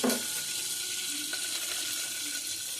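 Onions and green chillies fry in a hot tempering with mustard seeds, cumin and chana dal, giving a steady, close sizzle that starts with a brief louder burst and then hisses evenly with small crackles.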